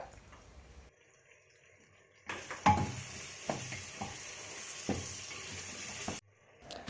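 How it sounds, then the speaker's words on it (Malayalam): Sliced onions frying in a pot with salt and split green chillies for chicken biryani, a soft sizzle that swells after a quiet start, with a few stirring knocks and scrapes. "പെട്ടെന്നൊന്ന് ഫ്രൈ ആയി വരാൻ നമുക്ക് കുറച്ച് ഉപ്പും കൂടി ആഡ് ചെയ്ത് കൊടുക്കാം"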